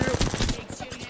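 Rapid automatic gunfire in a ranked shooter match, a dense burst of shots up front that thins into scattered cracks, loud and close with no talk over it.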